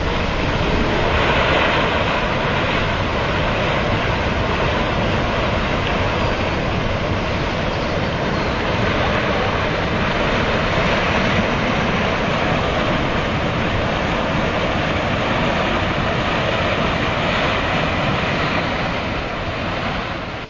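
Flash flood torrent carrying rocks down the Kanchanganga near Badrinath, a loud, unbroken roaring rush of water that stays steady and close throughout, with no voices.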